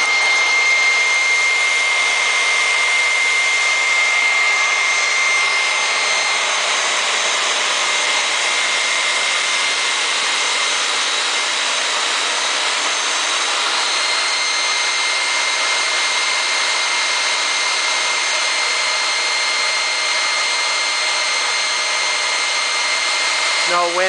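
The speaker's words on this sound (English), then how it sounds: "No wind today, so I had to get a blower out to make it go" A leaf blower runs steadily and close throughout, a loud continuous whine and roar aimed at a sand-filled whirligig on a windless day, with the noise holding level and unbroken from start to finish.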